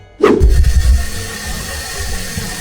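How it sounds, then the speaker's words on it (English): A sink faucet turned on to check for leaks after tightening the fittings: water gushes suddenly and then runs steadily, close and fairly loud, with no talk. "run your water for about 30 seconds to be sure that there aren't any leaks"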